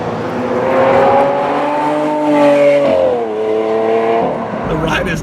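A Lamborghini Aventador SV supercar engine drones and rises in pitch as the car accelerates, with a gear change partway through, heard from inside the car with a person talking over it throughout.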